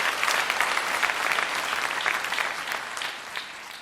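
Church congregation applauds people being baptised, a dense burst of many hands clapping that stays loud and even before easing slightly toward the end.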